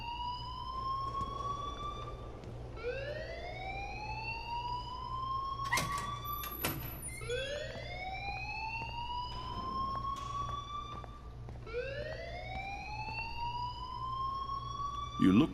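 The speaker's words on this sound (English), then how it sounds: "please turn off that alarm since that's your job" An alarm in the video game Life Is Strange blares steadily, its repeated rising wails cycling every few seconds over a low constant hum, alone and fairly quiet.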